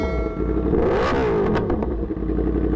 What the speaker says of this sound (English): It's got that good old R1 sound to it